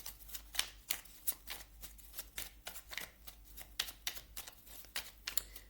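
Oracle cards being shuffled before one is drawn, a rapid run of crisp papery riffles and flicks at close range, steady and fairly quiet with no talking.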